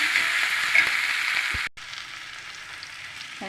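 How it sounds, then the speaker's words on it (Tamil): Green chilies, curry leaves and onion fry in a pan for a cabbage poriyal, giving a bright close sizzle with a few stirring knocks that cuts off abruptly partway, leaving a quieter sizzle afterward. "ரெண்டு பச்சை மிளகா கருவேப்பில் வெங்காயம் இது வதங்கினா கோசை போட்டு வதக்கி"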